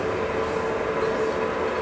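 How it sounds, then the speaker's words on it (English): Alton Towers roller coaster trains being moved out of a maintenance shed, giving a steady loud rumble with a faint hum and no break across the short stretch. "they're starting to take the trains out of the maintenance shed and put them on"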